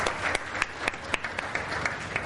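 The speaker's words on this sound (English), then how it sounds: "I would request all of you to join me with a very hearty vote of thanks with a very loud round of applause." An audience at a lecture meeting on the legal and tax aspects of trusts claps in a quick, fairly even rhythm, with distinct strong beats cutting through a continuous patter of hands over a couple of seconds.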